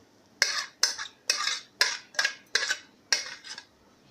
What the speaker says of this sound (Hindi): अंडे हमने 2 अदद लिए हैं, इनको हम फेंट लेते हैं